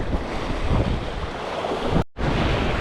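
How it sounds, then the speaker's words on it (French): Strong wind buffeting the microphone on the Corsican sea coast during a jig fishing trip, a continuous loud roar with surf beneath it, cut by a brief dropout near the end before the gusting resumes. "En fait là, il y a trop de vent."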